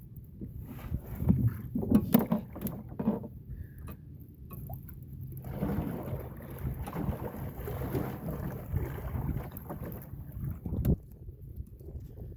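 Strong northeast wind at sea on a small fishing boat, rough gusting wind rumble buffeting the microphone, with water washing and hull knocks, loud and close.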